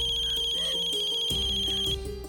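A telephone rings on without being picked up, a steady electronic ringtone tone running under a tense dramatic music bed before cutting off near the end.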